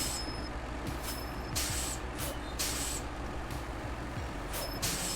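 Truck on an icy road in SnowRunner, a loud droning engine with repeated sharp hissing bursts of air brakes at irregular intervals.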